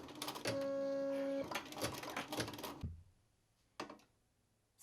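An embroidery machine stitches face details onto a patch, a dense mechanical rattle with a steady whine for about three seconds, then stopping, with one brief burst of stitching afterward.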